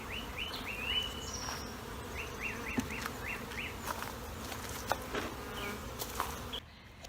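A swarm of honey bees, newly moved into a hive body in a bee yard, hums with a continuous dense buzz. Birds chirp repeatedly in the background and faint clicks break through now and then.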